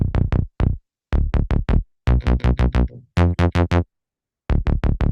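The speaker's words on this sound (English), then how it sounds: "This is the URKLANG 1 bassline preset" Serum synth URKLANG 1 bassline preset playing a choppy rhythmic pattern of short, punchy plucked bass notes in quick groups separated by brief silences, loud and dry.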